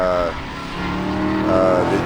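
A Spec Corvette race car, number 77, passes at Sebring, its engine note rising then falling as it goes by, heard under a commentator's voice over the trackside roar.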